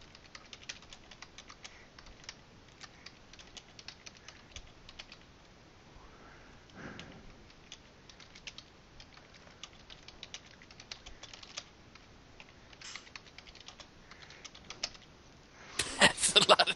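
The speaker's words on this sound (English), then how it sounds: "That's a lot of typing." Rapid typing on a computer keyboard, with dense, irregular clicks running steadily throughout and a louder burst of keystrokes near the end; the setting is a home online tabletop gaming session.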